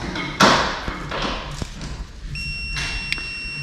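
A multimeter continuity test on a BMW K1200S motorcycle's ABS sensor wire gives a short high electronic beep near the end, following a few sharp taps and thuds as the probes make contact.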